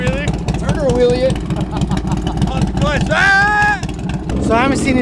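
A Silverado prerunner truck's engine revs loudly up close, pitch climbing and falling in bursts as the driver goes for a wheelie, with people talking over the engine throughout.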